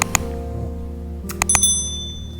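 A bright notification bell effect rings twice, the first ding early and then a quick double chime a second later, over a steady background tone.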